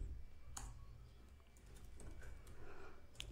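Fingers typing code on a computer keyboard, a run of light, quick keystroke clicks at close range with short bursts and brief pauses, alone over a faint low hum.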